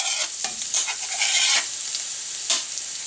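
Chopped green onion frying in olive oil in a hot pan, a bright steady sizzle with a few louder bursts as it is stirred, close up and with no talking.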